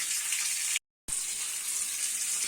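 Shower water runs steadily over a 3D printed Coanda screen tile, giving a loud, hissing splash. It cuts to total silence for a moment, then the flow resumes.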